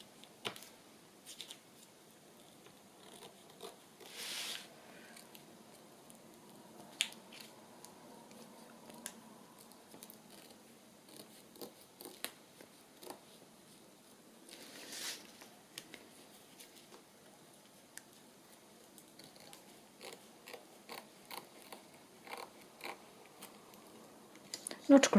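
Scissors trim paper for a triple flip envelope in a handmade wedding journal, giving scattered quiet snips and rustles spread through a long, soft stretch.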